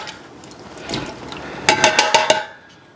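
Canned diced tomatoes pour into a soup pot, a short run of wet splashing pulses and glugs building over the final second and a half, close and moderately loud.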